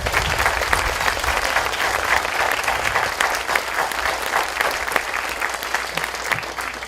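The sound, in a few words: applause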